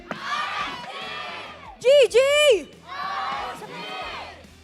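A small group of team members yells loud, excited cheers in short bursts at the MPL-PH Season 11 esports playoffs, with a close, energetic speaking voice before and after the shouts.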